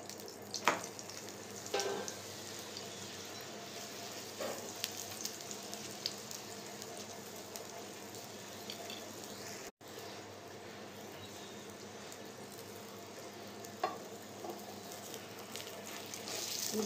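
Lauki (bottle gourd) paratha fries in ghee on a pan with a quiet, steady sizzle, punctuated by a few faint clinks and scrapes.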